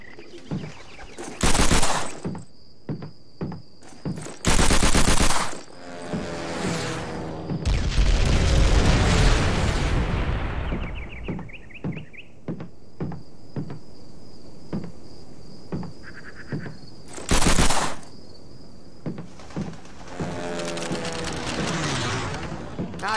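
Thompson submachine gun fired at targets in a training stable in Call of Duty: World at War, with several loud, sharp bursts spaced across the stretch over a steady background of crickets and distant booms.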